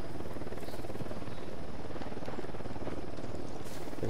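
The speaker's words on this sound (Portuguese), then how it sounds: "Pô, aqui tem um helicóptero." A helicopter in the video game Ghost Recon Wildlands gives a steady close whirring rotor chop with a buzzing engine drone, loud and continuous across the whole clip.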